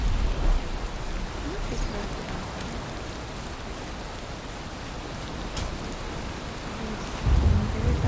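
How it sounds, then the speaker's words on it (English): Thunderstorm in the Valheim video game: steady heavy rain hisses continuously, and deep rumbles of thunder swell near the start and again loudly near the end. "I feel like with this storm, we're not gonna hear trolls."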